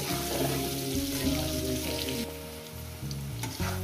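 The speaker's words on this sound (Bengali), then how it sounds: "4-5 মিনিট ধরে আমি একটু ভেজে নিই" Potatoes with salt and turmeric fry in a pan, a steady, moderate sizzle running throughout, partly under background music.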